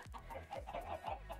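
Chickens cluck in a blocky video game, a quick run of soft, rhythmic clucks repeating every half second or so, close and without talking.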